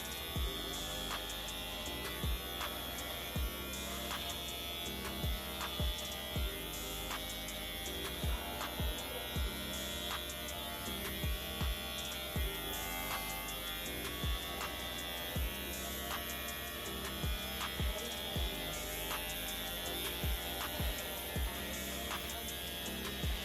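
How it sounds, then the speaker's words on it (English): An electric shaver buzzes steadily and close up as it trims leftover yarn strings off the surface of a handmade tufted rug, a continuous hum with small ticks as it catches loose fibres. "Whenever I have leftover like strings, I like to shave it off."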